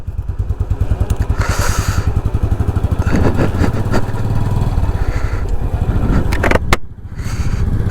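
A motorbike rides along a mountain road toward the Kainchi Dham ashram, its engine thrumming in a loud, close, rapid pulsing beat with some clatter and changes in revs.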